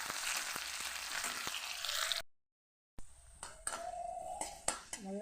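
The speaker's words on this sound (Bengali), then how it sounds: "লাল করে ভেজে নেব।" Garlic, chopped onion and dried chili frying in oil until reddened, a quiet close sizzle that cuts out briefly, then returns with soft clicks and stirring taps.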